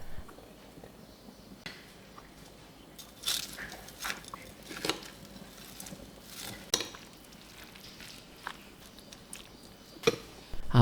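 Okonomiyaki batter with chopped green onions is stirred in a bowl, giving soft, close, irregular squishy mixing sounds and occasional sharper scrapes, with no talking.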